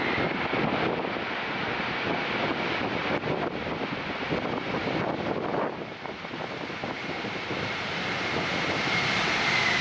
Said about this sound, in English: The de Havilland Canada-8 faced severe turbulence during landing due to poor weather conditions.